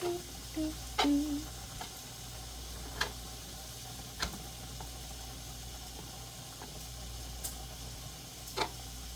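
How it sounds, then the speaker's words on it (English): Bacon frying in a skillet on a homestead kitchen stove, a quiet steady sizzle with scattered small pops and ticks, plus a few clinks near the start. "I've got some bacon going in the skillet"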